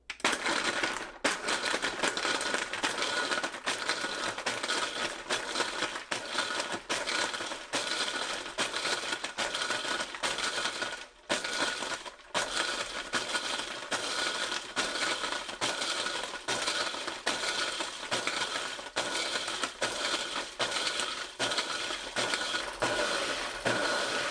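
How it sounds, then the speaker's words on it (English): A Breville BBL620 Fresh & Furious blender crushing ice cubes with pineapple juice, rum and cream of coconut on its Auto Pulse Ice Crush setting, a loud, dense, rattling grind that pulses steadily with brief pauses, running alone for the whole stretch. "And I'll use the button in the middle, the Auto Pulse Ice Crush button."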